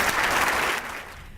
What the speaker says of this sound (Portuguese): recebam com um aplauso a nossa querida ministra Maria Cristina Peduzzi